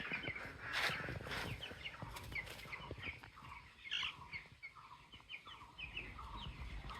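A flock of 17-day-old broiler chicks on a poultry farm, cheeping and clucking continuously at moderate distance, many overlapping calls with brief louder bursts, no talk.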